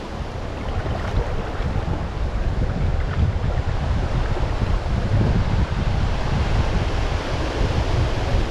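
Strong wind gusts roar across the microphone beside a trout river, a loud, dense, continuous rumbling buffet with no clear pauses or voices.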